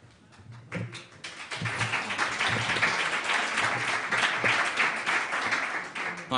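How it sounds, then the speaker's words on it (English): An audience at a panel discussion on occupational safety and health policy bursts into applause, building from a few scattered claps into sustained, fairly distant clapping from a large crowd. "this applause shall go for Haralds for very excellent moderating of this panel discussion"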